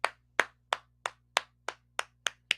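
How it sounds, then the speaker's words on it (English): A slow clap: nine sharp, evenly spaced handclaps about a third of a second apart, crisp and close in an otherwise quiet room. "the slow clap in the green."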